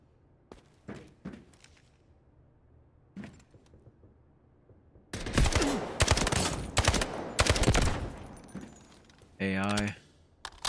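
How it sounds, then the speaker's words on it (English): Bursts of gunfire in Delta Force, faint distant single shots early on, then loud close volleys of automatic fire with a brief mechanical burst near the end. "There's some firing out there"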